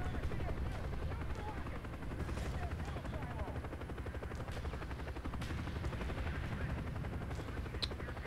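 Steady, dense helicopter rotor chopping in Call of Duty: Black Ops fills the whole stretch, with faint scattered gunfire and a voice talking underneath.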